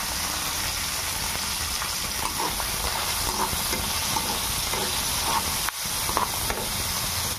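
Dried fish frying in oil in a pan with a pinch of turmeric, a steady close sizzle and hiss running throughout with faint stirring scrapes, no voices.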